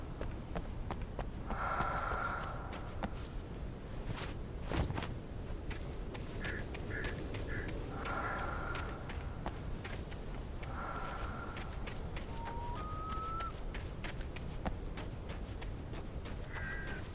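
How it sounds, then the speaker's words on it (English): Birds in the Alan Wake game, several short harsh calls and squawks scattered over a steady low ambient rumble, fairly faint and spaced out, with one brief rising cry near the end. "Birds."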